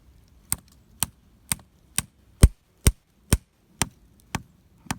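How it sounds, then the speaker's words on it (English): Ten sharp hammer strikes at a steady pace driving a maple tap spout into a tree, each a bright tink with a dull thud beneath, close by with quiet between blows. "It's more of a high tink sound, and then it will be like a little lower thud."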